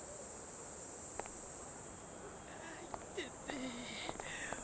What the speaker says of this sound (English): I'm guessing it's supposed to be like cicadas or something